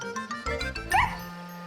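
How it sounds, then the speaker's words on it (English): A little cartoon dog gives a short yip and bark, a brief high-pitched vocal burst over light background music in an animated children's show. "She gave a little bark."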